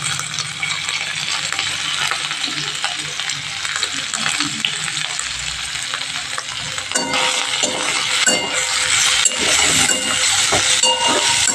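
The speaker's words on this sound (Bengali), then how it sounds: "এবার আমি আরেকটু ভালো করে নেড়ে নিচ্ছি" Beetroot and potato curry is stirred in a pan over steady sizzling, with scraping and scattered metallic clinks from the utensil, growing louder and busier in the second half; no talking.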